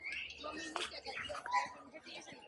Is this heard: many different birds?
yes